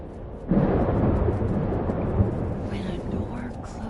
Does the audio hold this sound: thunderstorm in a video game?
yes